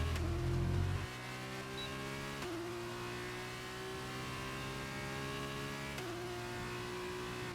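An F2 race car engine in F1 23 holds a loud, steady high-pitched whine, dipping briefly on gear shifts before climbing again, with no talking.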